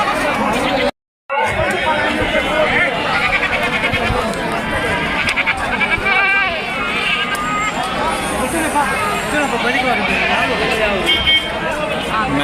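Young male goats bleat at a busy outdoor goat market, repeated wavering calls from several animals rising over constant crowd chatter, with a brief dropout near the start.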